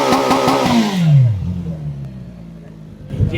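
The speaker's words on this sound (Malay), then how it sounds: "Yang best ni dia punya engine adalah engine 4 inline." A QJMotor SRK421 naked motorcycle with an inline-four engine is revved hard once up close, then the engine note sweeps down and settles toward a low rumbling idle.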